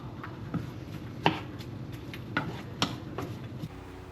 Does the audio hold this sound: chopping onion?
yes